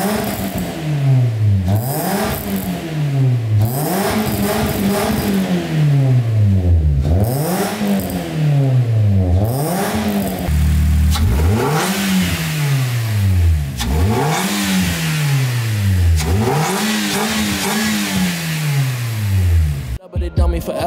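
A Toyota Corolla Altis engine fitted with an aftermarket air intake filter, revved repeatedly up and down in about eight rising and falling sweeps, loud and close, with music playing underneath.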